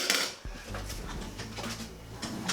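A ladle scrapes and clanks against the inside of a wok being seasoned, a close run of metallic scraping strokes with a sharp knock near the start.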